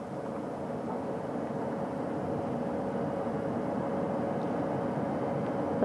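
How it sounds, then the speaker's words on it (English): A recovery helicopter hovers about 40 feet above the splashdown site of the Artemis II capsule, giving a steady, continuous rotor and engine drone that stays even and fairly loud throughout with no voices. "Helo 2 now, hovering just 40 feet above the front porch, lowering a recovery specialist out of the helicopter."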